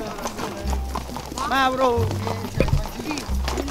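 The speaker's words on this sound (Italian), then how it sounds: "Stanno a camminare i cavalli, mica nuovo." Horses walking in a group ride at Santopadre, hooves clip-clopping in a steady, close rhythm under people chatting in Italian, with a whinny-like call partway through.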